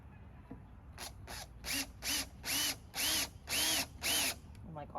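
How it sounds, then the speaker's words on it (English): A power drill drives a screw into a wooden dowel for a DIY Halloween ghost, whining in six short, even bursts that rise in pitch, close and loud, with quiet pauses between them. "screw the screw down into the pilot hole just enough"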